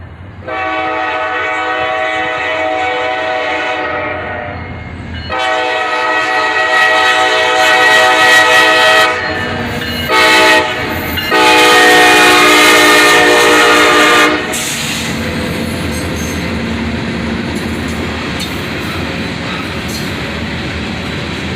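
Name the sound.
pair of SD40-3 locomotives leading southbound train, horn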